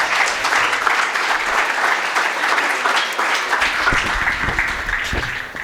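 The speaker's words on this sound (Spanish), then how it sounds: "Un fuerte aplauso." An audience at a cultural event gives a strong, steady round of applause, dense clapping sustained for several seconds before thinning slightly near the end.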